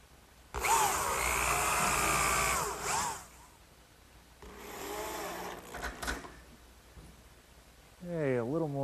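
A power drill whirs in two bursts, a long one and then a shorter one, as screws go into the back panel of a wooden corner cupboard in a woodworking shop. A voice speaks briefly at the very end.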